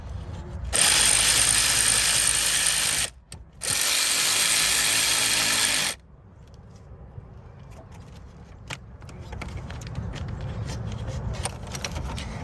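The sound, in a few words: wrench tightening a bolt on a Honda Accord fuel pump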